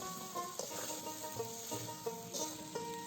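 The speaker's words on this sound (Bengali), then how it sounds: "আর ভেজে রাখা মুগ ডাল আর ভেজে রাখা সোয়াবিন এক এক করে সব দিয়ে দেবে এরপর সব কিছু ভালো করে কষিয়ে নেবে" Fried moong dal and soybean are stir-fried in a pan for Bengali bhog khichuri, giving a soft, steady sizzle with light scraping and stirring knocks. Quiet and close, with no talking.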